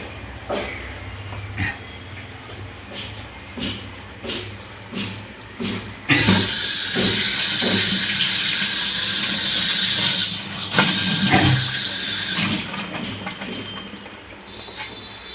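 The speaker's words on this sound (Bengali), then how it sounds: "দেখি ধনে পাতাগুলো একটু ধুয়ে নিই।" Coriander leaves rinsed under a running kitchen tap: soft splashy handling bumps at first, then a steady loud rush of water for several seconds that stops near the end, close by with no talk.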